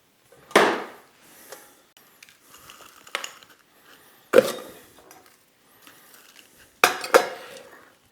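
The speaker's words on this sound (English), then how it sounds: "I want to top it off with just a little bit more ice." Ice cubes dropped into a Nui Nui cocktail glass land in a few sharp clattering bursts, with quieter clinks and shuffles between them, close and alone with no talking.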